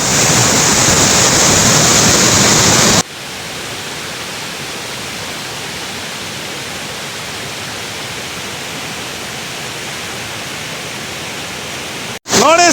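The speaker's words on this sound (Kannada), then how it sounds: "ಸ್ನೇಹಿತರೆ ಇದು ಅಬ್ಬಿ ಫಾಲ್ಸ್ ಅಲ್ಲಿ ಕೆಳಗಡೆ ಒಂದು ಫಾಲ್ಸ್ ಇದೆ ಮೇಲೊಂದು ಫಾಲ್ಸ್ ಇದೆ" Abbi Falls in Karnataka during the monsoon, a loud continuous roar of falling water, briefly louder at first and then steady, with no voices.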